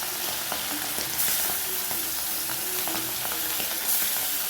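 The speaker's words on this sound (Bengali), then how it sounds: "চলো মাছগুলো একটু হালকা করে ভেজে নিই।" Pieces of hilsa fish frying lightly in oil give a steady, close sizzle with soft crackles and a few clinks of stirring throughout.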